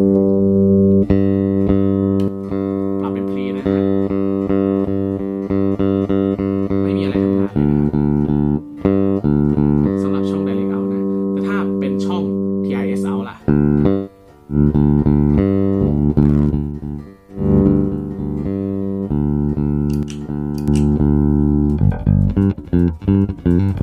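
A bass guitar played through a Nux Melvin Lee Davis bass preamp and DI pedal gives deep, sustained notes and short phrases, steady and prominent, with brief pauses between lines.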